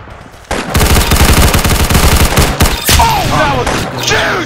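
Loud, rapid gunfire from a Spencer Carbine in the Arsenal video game, a fast string of shots that starts abruptly after a brief quiet lead-in and is followed by game effects near the end.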